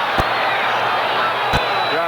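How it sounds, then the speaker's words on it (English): Football stadium crowd at a 1979 Denver Broncos game, a broad steady roar of many voices rising in noise, with two brief sharp thumps standing out. "Crowd gets a little noisy, as they frequently do"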